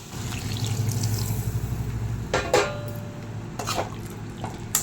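A tumbler of water is poured into a pan of mushroom pepper gravy, giving a steady close splashing trickle with a few brief louder sloshes as the liquid hits the simmering mixture.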